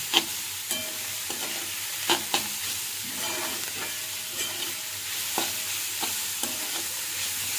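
Finely chopped fenugreek leaves sautéing in a pan, a steady soft sizzle with repeated spatula scrapes and taps at a close distance, no voices.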